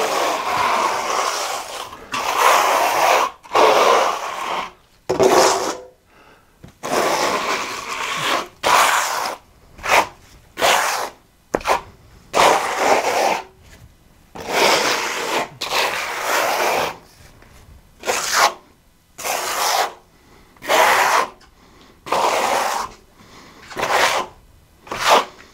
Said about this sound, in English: sometimes you trowel it on real hard